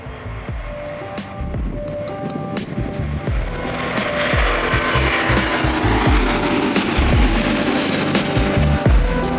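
At an airport runway, a plane takes off: a distant jet roar that swells and grows louder over several seconds into a broad, sustained rumble, with some nearby clicks and knocks in the foreground.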